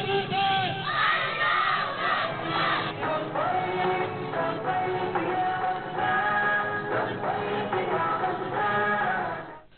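Children and students chant slogans in unison at a Gaza solidarity march on Shahrah-e-Quaideen in Karachi, a loud, dense crowd roar with rising and falling shouted calls throughout.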